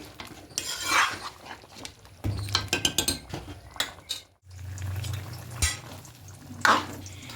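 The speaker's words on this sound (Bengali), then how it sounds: "আরেকটু নাড়িয়ে দিই মাঝে মাঝে এরকম করে হাতাতে করে নাড়তে হবে" Special vegetarian khichuri made with atap rice, boiling in a pot and stirred with a ladle: close scraping and clinking of metal against the pot in uneven bursts, with a soft bubbling background and no voices.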